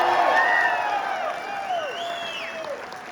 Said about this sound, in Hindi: जोरदार तालियों से उसका स्वागत करना चाहिए।